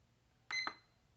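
A La Crosse Technology W79752 digital atomic wall clock gives a single short electronic beep, a quick double-edged chirp alone in a quiet room.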